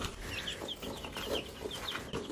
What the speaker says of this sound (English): I'm going to check on these chicks